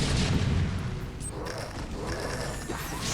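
Siege tank artillery from StarCraft: Brood War Remastered, heavy booming blasts with mechanical clatter filling the mix, dense and loud from start to end with no clear gaps.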